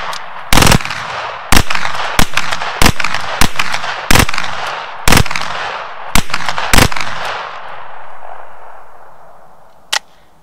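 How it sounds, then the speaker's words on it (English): A Palmetto State Armory AKV rifle fired with its stock folded at a range lets off about a dozen sharp, loud shots in an irregular rhythm, each ringing out, with one last distant report. "One great thing about a bufferless system such as the AK platform is you can fire it in the folded position."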